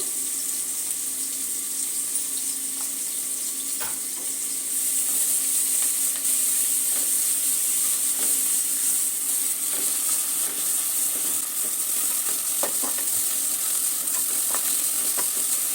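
Two onions frying in a pan, with a continuous loud hiss of oil running evenly throughout, faint scrapes and clicks under it.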